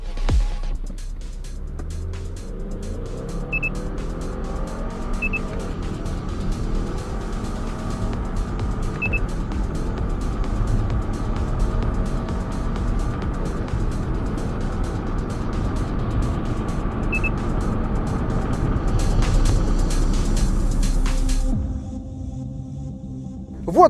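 A turbocharged Subaru with 280 hp and a CVT accelerates hard, its engine and road noise rising as a sustained, loud drone that holds steady for about twenty seconds before abruptly falling away.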